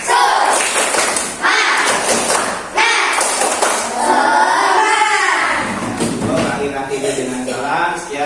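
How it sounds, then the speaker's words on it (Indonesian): A classroom of pupils performs a rhythmic 'tepuk semangat' clapping chant, with loud claps and thumps mixed with many voices chanting together, filling the whole stretch. "Tepuk semangat."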